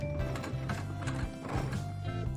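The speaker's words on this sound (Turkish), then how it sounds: "Bakın, bu atı olan pembe bir fayton." Hooves of a horse pulling a pink carriage clip-clop in a steady close rhythm along a street, loud and continuous with no talk.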